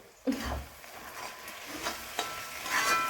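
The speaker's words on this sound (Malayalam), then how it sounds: "നമുക്ക് ഈ പച്ചമണം മാറുന്നവരെ ഒന്ന് വഴറ്റുക." Food sautéing in a pan for a home Christmas meal makes a soft, close sizzle, punctuated by a few light stirring and scraping taps.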